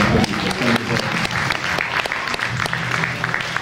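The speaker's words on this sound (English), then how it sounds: "Could you all give him a big round of applause?" An audience at a film festival claps steadily and enthusiastically, a dense, continuous round of applause from a sizable crowd, filling the whole stretch.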